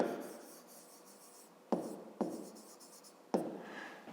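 Pen scratching across paper while a math solution is written out by hand, a close continuous scribble broken by three sharp taps as new lines begin, with no voices.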